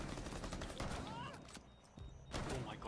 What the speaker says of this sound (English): Oh my god, this shotgun is good.